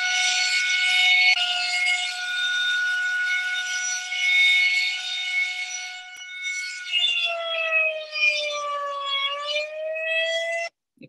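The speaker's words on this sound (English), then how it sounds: "loud sirens" Loud wailing sirens hold a steady tone for about six seconds, then rise and fall in pitch before cutting off abruptly, with no voices.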